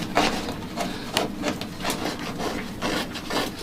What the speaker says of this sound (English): I'm going to do is get a scraper on this, because it all should come off quite easily